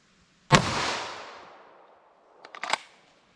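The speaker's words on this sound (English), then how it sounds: "So let's see if we get in our plain clear ballistics shot with our" A 9mm round fired into a block of clear ballistic gel: one loud, sharp report with a long ringing decay, followed by a few faint clicks and clatters about two seconds later.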